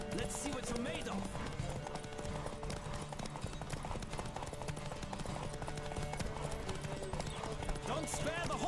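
Horse galloping in The Witcher 3 video game, a rapid rhythmic clip-clop of hooves running steadily throughout while voices talk over it.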